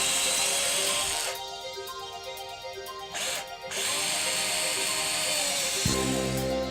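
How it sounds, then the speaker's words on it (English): A power drill with a 3/16 drill bit bores holes through a base, its motor whining loudly in sustained bursts with short pauses between, then a brief metallic ratcheting near the end. "Drill 2 holes using a 3/16 drill bit."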